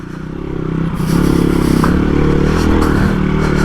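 A Hero XPulse 230 big-bore build motorcycle nearly crashing as it slides: a loud, close engine roar with gritty scraping and clattering that swells and holds steady.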